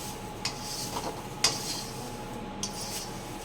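Moringa leaves are dry-roasted a little at a time in a pan, with a few soft scrapes of a stirring spoon over a faint, low background hiss.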